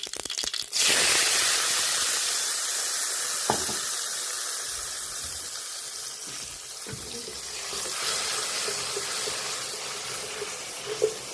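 Spiced water hits hot oil tempered with mustard seeds and asafoetida for a bitter gourd curry, bursting into a loud hiss that settles into steady steaming sizzle, with a few faint clicks.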